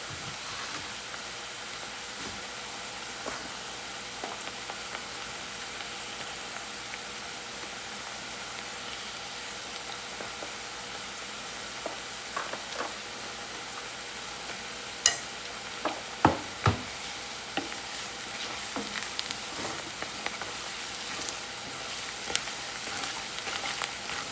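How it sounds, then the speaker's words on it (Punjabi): Onions and green chilies frying in a pan, a steady close sizzle with soft stirring scrapes and a few sharper clinks of spices going in near the end. "ਆਪਣੇ ਪਿਆਜ਼ ਤੇ ਹਰੀ ਮਿਰਚ ਭੁੰਨੀ ਗਈ ਹੈ ਬਸ ਆਪੇ ਤੇ ਮਸਾਲਾ ਪਾ ਦਿੰਨੇ ਆਂਗੇ"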